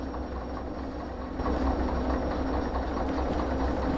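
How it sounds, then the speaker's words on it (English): A train in the Derail Valley simulator game rumbles and grinds as it brakes toward a stop, a steady low mechanical drone that swells slightly partway through. "You just stop the train."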